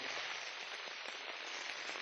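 Rain falling on a surface, a steady dense patter of drops that stays even and fairly faint throughout, with no voices.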